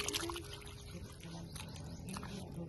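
Very hot water pours steadily while raw chicken is washed in a home kitchen, a faint continuous splashing trickle.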